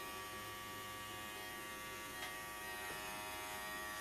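A BaBylissPro cordless lithium-ion hair clipper trims and shapes a beard with a steady, close electric buzz that holds evenly throughout, without speech.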